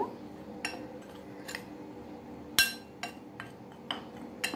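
A spoon mixing black cumin and chili flakes in a bowl, with sharp metallic clinks against the bowl at irregular intervals over a soft background hum.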